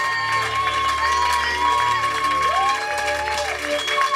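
Church congregation applauding and cheering during a celebration of anointing, steady clapping with whoops and shouts throughout, sustained and fairly loud with a sung or shouted melodic voice running over the crowd.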